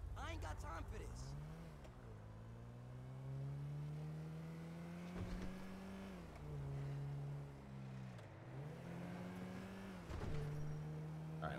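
A car in the GTA video game races through red lights, its engine droning and revving up and down with gear changes across about twelve seconds, loud and close, while someone talks over it.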